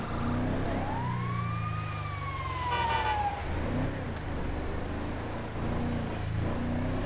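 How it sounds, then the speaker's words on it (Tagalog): An ambulance siren in GTA roleplay wails in a rising and falling sweep as the vehicle passes, heard over steady low traffic rumble, then fades into road noise. "Ay, ambulansya."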